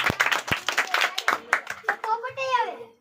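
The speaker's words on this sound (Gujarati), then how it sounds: "તાળીઓ કરી બતાવો." Children in a classroom clapping their hands, a quick burst of sharp claps over a few seconds followed by a voice speaking.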